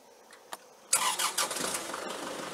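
A tree mower engine cranks after a couple of faint clicks, catches with sputtering bursts, then settles into a steady, rough idle close by.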